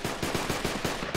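Automatic gunfire in the tactical shooter Project Reality rattles out as a steady, regular burst of about seven rounds, loud and fairly close, with no talking.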